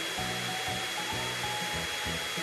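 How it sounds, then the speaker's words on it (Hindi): A vacuum cleaner, its hose placed inside a trash bag, runs with a loud steady whine and rushing airflow while pulsing low rumbles come and go as the plastic bag is sucked in, no talk. "वैक्यूम क्लीनर चालू करें, होस को बैग में रखें"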